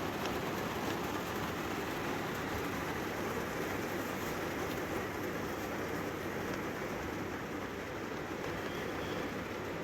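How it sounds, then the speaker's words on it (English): Steady rain patters on the roof of a parked Vandura camper van at a provincial park, a dense, even hiss running continuously and fairly softly with no voices. "It's raining."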